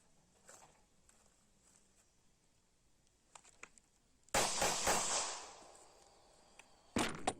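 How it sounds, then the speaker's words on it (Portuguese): Gunfire at a shooting club. Faint taps and clicks give way to a sudden loud blast that decays over about a second, then another sharp bang near the end, with no speech. "eu só quero mostrar aí o Anselmo atirando no clube lá"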